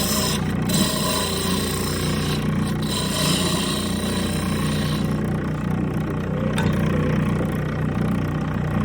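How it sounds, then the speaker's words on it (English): Wood being turned on a lathe to cut a tenon, a continuous loud scraping rasp of the tool against the spinning workpiece over the low hum of the machine. "Creating a tenon for myself really quick."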